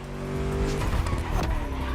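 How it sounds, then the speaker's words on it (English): A V8 car in the racing game The Crew Motorfest, engine droning and revving loudly up close with tire squeal and skidding as it corners. "Just listen to that V8 like a chunky, down-tuned guitar riff"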